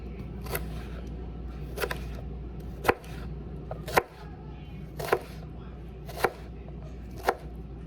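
A knife chops pepper on a tray in about six sharp, evenly spaced strikes roughly a second apart, close and crisp over a low steady kitchen hum, with no talking.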